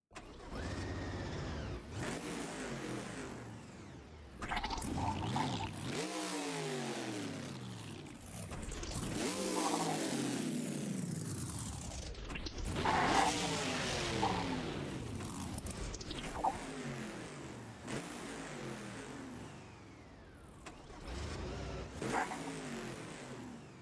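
Several monster trucks at a show in Gilbert, PA idle and rev, their engines rising and falling in repeated loud surges over a constant rumble with no voices.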